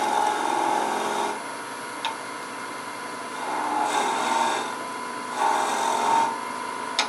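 A turning tool shapes a wooden bead on a lathe, producing several close, raspy cutting bursts. Quieter stretches of spinning hum fall between them.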